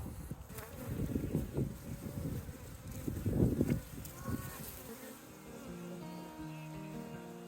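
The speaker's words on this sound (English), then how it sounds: "I'm gonna go ahead and break into the hive and check that little queen box" Honeybees from a freshly installed package buzz steadily around an opened hive, a dense close hum that rises in bursts before settling into a lower, even drone.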